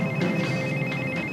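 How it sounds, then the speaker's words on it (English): A basic phone ringtone plays on its own, a steady electronic tone that continues without a break for the whole short stretch. "He seems to have changed his ringtone from My Humps to a basic one."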